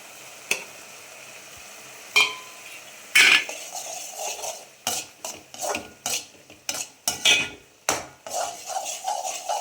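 A spoon scrapes and clacks repeatedly against a pan while stirring a thick mango and jaggery mixture, close irregular strokes with metallic knocks and brief sticky scrapes, no voices.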